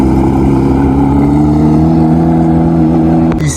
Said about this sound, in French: Ça c'est la Touring qui fait un bruit de fou.